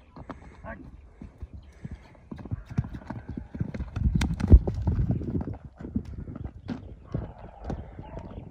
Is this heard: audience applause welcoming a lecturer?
no